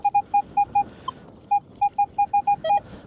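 Metal detector signal tones during a UK silver coin hunt: a run of short, evenly repeated electronic beeps, with brief pauses and one quick double tone near the end, loud and clear with no talk.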